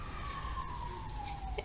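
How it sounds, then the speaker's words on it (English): Emergency vehicle siren wailing outside during hot, windy weather, a steady falling tone carrying over a low background rumble, moderately loud and continuous for the whole stretch with no talk. "There's a lot of sirens going on, and I suspect that there is a wildfire somewhere"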